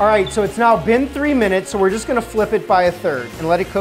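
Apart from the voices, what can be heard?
None of the usual background noises is heard.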